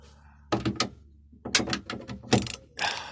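Ratchet with a 10mm socket undoing glove box bolts inside a BMW E36 convertible, heard as several short bursts of clicking and rattling separated by brief pauses, close and fairly loud.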